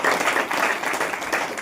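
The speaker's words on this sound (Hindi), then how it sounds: "ताली बजाकर परमेश्वर" A church congregation at a Hindi-language Christian prayer meeting claps together in praise, a brief, dense burst of clapping without speech.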